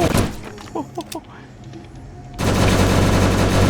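Gunfire in the zombie survival game Last Hope Bunker, with a few short thumping shots early on and then a loud, continuous burst of rapid fire.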